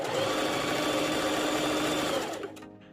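Sewing machine stitching fabric for a scrunchie, including a back stitch at the end of the seam: a close, steady high-pitched motor whir that runs continuously, then slows and stops near the end.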